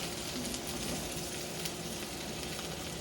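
Shrimp sizzling in butter in a hot pan during a veggie stir-fry with saffron pasta: a steady, dense frying hiss with faint crackles, continuous and fairly quiet throughout, with no talking.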